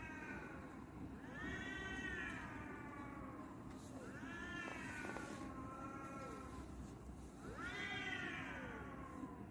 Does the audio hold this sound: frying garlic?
no